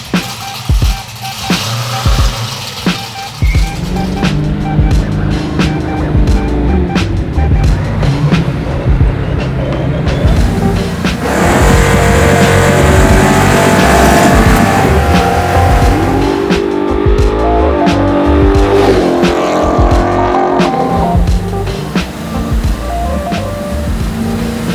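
Garage-built 850-horsepower big-block Chevy El Camino driving on city streets, its loud engine revving and rumbling close by with gear changes and bursts of acceleration; voices talk faintly at moments.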